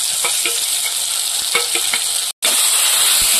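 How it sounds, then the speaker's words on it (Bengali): Tomato goes into onion and garlic frying in a pan, giving a loud, continuous bright sizzle with a few stirring scrapes and a brief dropout near the end. "পেঁয়াজ রসুনটা ভেজে নিয়েছি, এবার টমেটো দিয়ে দেবো।"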